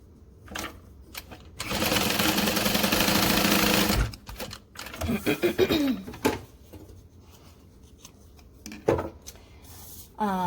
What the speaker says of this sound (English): I'm just going to butt up two short sides and stitch them together